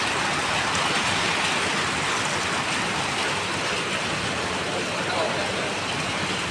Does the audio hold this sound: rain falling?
yes